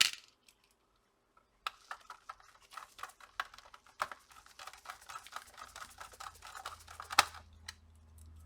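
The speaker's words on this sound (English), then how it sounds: "And now let's put the rest of the screws" Small screws fitted back into a Dell Inspiron 3531 laptop during reassembly, giving dense runs of close, light metallic clicks and ticks with a few sharper taps, no voices.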